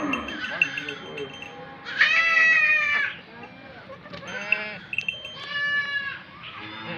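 Goats for sale at a goat market, including nannies with kids, bleat in several loud, drawn-out calls close by, with people talking underneath.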